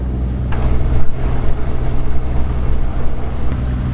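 A sailboat's motor runs steadily while motoring into a light headwind at sea, a loud, constant low rumble mixed with wind buffeting the microphone.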